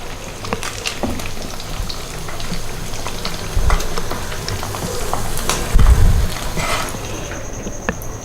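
Spicy beef chops frying in a pan with mustard seeds give a steady, close, loud sizzle with crackling, plus a couple of heavier bursts partway through; no one speaks.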